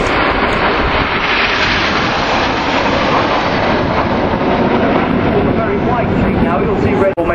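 An advanced jet trainer flying a display at the Fairford airshow, a loud, sustained roar of jet engines filling the whole stretch and staying constant before cutting off at the very end.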